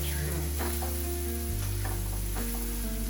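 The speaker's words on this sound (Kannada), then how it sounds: "ಸಿಮ್ಮಲ್ಲಿ ಈರುಳ್ಳಿನ ಹುರಿಬೇಕು." Chopped onions frying in a pan give a steady sizzle, close and moderately loud, under a sustained tonal hum that shifts partway through; no one talks.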